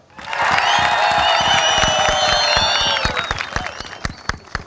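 Studio audience on a Chopaal comedy show breaks into loud, sustained applause and cheering that swells quickly, holds steady for a few seconds, then thins into scattered claps.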